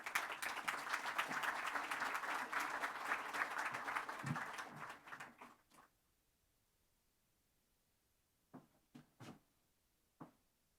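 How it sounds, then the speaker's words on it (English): A warm round of audience applause at a jubilee speech event fills the first half, dense and steady, then fades out abruptly into near silence, followed by a few isolated soft claps or taps. "Let's give him a warm round of applause"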